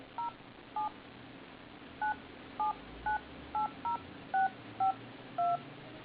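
A telephone number is keyed in on an iPhone, producing about eleven short, clean DTMF touch-tone beeps in an uneven rhythm, each lasting a fraction of a second, with no talking over them.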